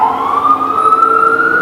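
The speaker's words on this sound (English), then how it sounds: "Sorry for the sirens." A loud siren wails with a rising, sustained tone, sounding close by over the hum of traffic.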